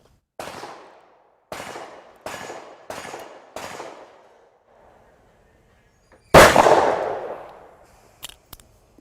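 Gunfire from a stainless steel gun made near St. Louis, Missouri: five evenly spaced sharp shots with decaying tails, then a pause and one louder, heavier blast followed by a couple of faint clicks.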